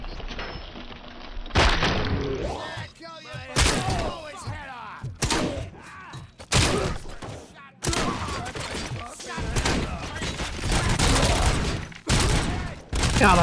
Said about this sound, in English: God, I love shotguns.